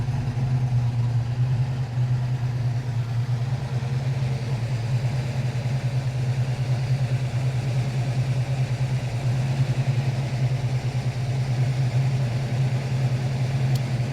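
A 1965 Ford Mustang K-Code V8 idles steadily at close range, a smooth, even low rumble that holds for the whole stretch with no talk.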